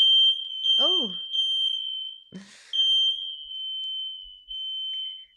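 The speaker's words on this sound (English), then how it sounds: "I'm rolling with the waves of the fire alarm." A smoke or fire alarm shrills in a steady high-pitched tone that runs almost unbroken, briefly dipping and returning, while a person speaks over it now and then.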